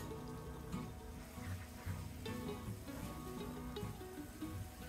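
Ground coriander, turmeric and chili powder frying in hot oil on medium heat for beef liver bhuna, with a steady close sizzle and crackle plus occasional stirring scrapes, no voices.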